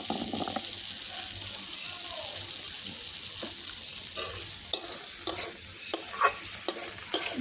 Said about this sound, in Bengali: এদিকে আমি কিন্তু শিলটা একটু ভালো করে ধুয়ে নিই